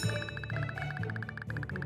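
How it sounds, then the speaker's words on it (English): A school lunch bell in the video game Kindergarten rings with rapid, repeated metallic strikes in a steady trill, moderately loud and continuous with no voices. "That's the lunch bell."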